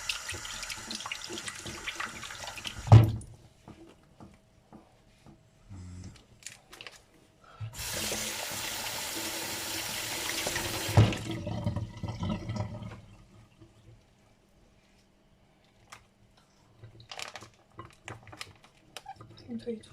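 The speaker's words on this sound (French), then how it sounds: "Je vais me rincer les mains quand même." Tap water runs into a sink for several seconds while hands are rinsed in a home kitchen, a steady splashing rush between quieter handling clatter and a voice speaking before and after.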